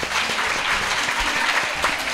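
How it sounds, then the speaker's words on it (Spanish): Dense, steady applause fills a radio station's auditorium at Telemadrid during a children's school radio broadcast, loud and continuous with cheering voices faintly mixed in. "un buen aplauso que te llevas"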